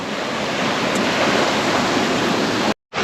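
Fast water rushes through the Mylavaram dam gates in a loud, steady roar of turbulent flow. The sound stays close and continuous, then cuts out briefly near the end.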